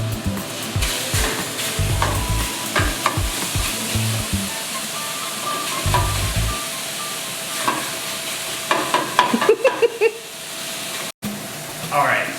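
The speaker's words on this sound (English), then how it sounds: "lean ground beef from the local co-op, and we're gonna throw it in the pan." Lean ground beef from a local co-op sizzles and hisses steadily in a pan, with a thick continuous crackle, occasional stirring and scraping, and a voice talking over part of it.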